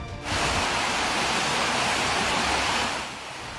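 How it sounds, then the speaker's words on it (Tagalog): Floodwater rushes through Nivel Hills in Cebu City after heavy rain, a steady, loud broadband roar of churning water that swells in after a moment and holds constant throughout, with no voices. "kita ang pagragasa ng tubig baha sa Nivel Hills sa Cebu City"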